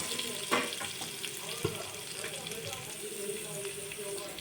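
Potatoes are stirred in a pan while making Surat chowpatty-style bhel, giving a quiet, steady sizzle with a few soft scraping clicks and no one speaking.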